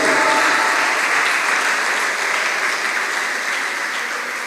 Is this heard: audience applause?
yes